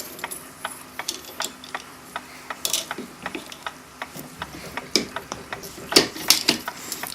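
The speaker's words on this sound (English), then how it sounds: "Now remove the spring from the spring winder." A mainspring coming off a spring winder while a Gilbert kitchen clock is serviced gives a run of light metallic clicks and ratcheting ticks, close and fairly quiet, scattered irregularly with a few sharper snaps and no talking.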